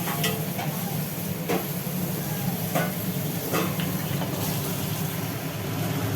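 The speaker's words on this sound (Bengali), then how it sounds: "মশলাটা এখনো কষানো চলছে" Spice paste (masala) is sautéed in hot oil, giving a steady close sizzle and hiss with occasional soft stirring scrapes throughout.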